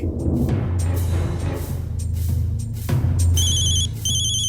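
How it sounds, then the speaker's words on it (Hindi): A phone ringtone plays in repeated short electronic bursts over a low background hum, with no one speaking. "वीर जी का फोन"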